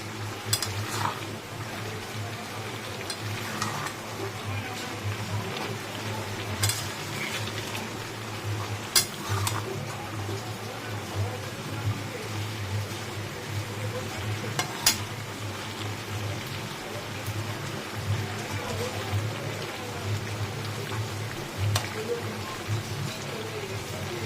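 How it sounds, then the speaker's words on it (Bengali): Fish-head chochchori is stirred and turned over as it fries in a pan, giving a steady soft sizzle punctuated by occasional scraping clinks from the utensil, moderately close and continuous. "এবার এটাকে ভালো করে নেড়ে দিচ্ছি, ওপর নিচ করে দিচ্ছি একটু"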